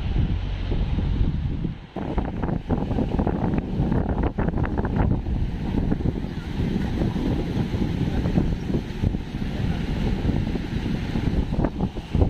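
Rushing river water near Mana village in Uttarakhand roars continuously in a broad, steady wash, loud and close, heavily buffeted by wind noise with no speech.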